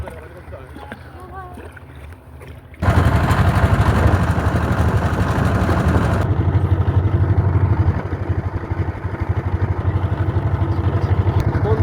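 A motor boat engine runs steadily while crossing the wide Jamuna river toward a char, kicking in loudly after a quieter start and droning on at a constant level with water and wind noise.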